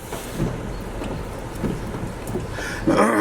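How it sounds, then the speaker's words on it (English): Heavy rain pours steadily with a low rumble underneath, a constant wash of drops close by with no one speaking. "But it's raining a lot."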